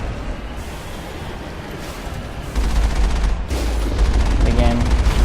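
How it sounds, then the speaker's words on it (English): Geth armatures firing on the player in the Mass Effect ruins on Therum: a steady wash of rapid gunfire and booming impacts that grows louder and heavier halfway through, dense and continuous with no clear gaps. "Looks like we've got a couple more Geth armatures up here, taking some shots at us."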